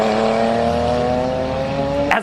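A Porsche 997 Turbo's twin-turbocharged engine drones loudly and steadily under acceleration, close and strong, then cuts off abruptly with a brief rough burst at the end.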